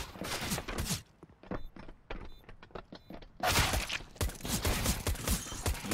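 Gunfire from Counter-Strike on the Nuke map in an ESL Challenger League match: clustered sharp shots in quick bursts, a rapid volley in the middle, then dense, loud firing and clatter.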